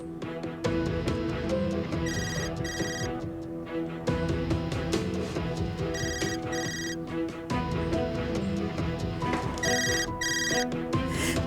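A mobile phone ringtone plays a repeating electronic melody in bursts of bright chiming notes, loud and close, cycling several times without talk.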